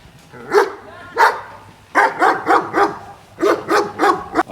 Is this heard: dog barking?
yes